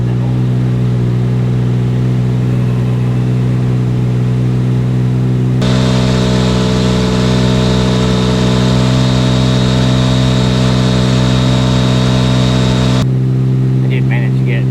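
A turbocharged 4.1-litre Porsche Cayman engine runs on a dyno with a loud, steady droning hum that steps up in pitch and intensity midway through, then settles back down.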